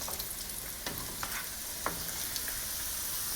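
Struffoli dough balls fry in hot oil with a constant close sizzle, while a skimmer stirs them and adds a few scraping, clinking knocks.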